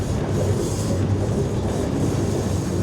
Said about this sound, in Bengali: কুড়িগ্রাম এক্সপ্রেসের গতি দেখুন এখন 62, 63 এইরকম।